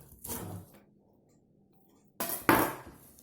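Finely chopped greens such as fenugreek leaves dropped into a pressure cooker, two short clattering bursts separated by a quiet pause, close and moderately loud, no talking.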